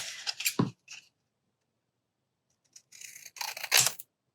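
Paper being trimmed by hand for a bellyband, two short bursts of snipping or cutting separated by a quiet gap, close and moderately loud with no talking.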